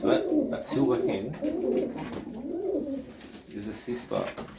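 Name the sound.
Serbian Highflyer pigeons cooing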